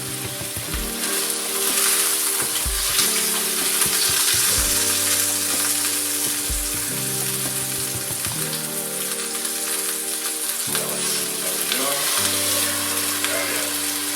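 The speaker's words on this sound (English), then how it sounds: "Quick sear." Beef for Beef Wellington sears in a hot pan, a loud, steady close-up sizzle and crackle that runs throughout, with low tonal hum underneath.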